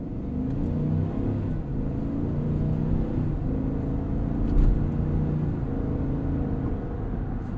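Steady engine hum and road rumble from a 2021 Cadillac Escalade Sport Platinum accelerating, smooth and continuous from inside the cabin with a brief swell midway.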